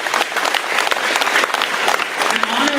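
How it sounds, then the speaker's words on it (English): An audience applauds in honor of returned American Vietnam prisoners of war, a loud, sustained crowd clapping with faint voices mixed underneath. "Please, a round of applause."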